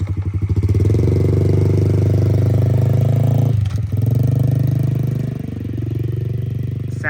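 A Yamaha TTR50 pit bike engine runs after a top end rebuild with a repacked exhaust, a close, loud buzzing putter that dips briefly, then settles and rises again, with no talking over it.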